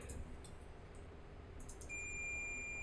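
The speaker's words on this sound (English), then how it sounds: "You're gonna take your multimeter and just put it on continuity, this little buzzy sound," A multimeter set to continuity gives a faint, steady high-pitched beep that starts partway through and holds unbroken to the end over quiet room noise.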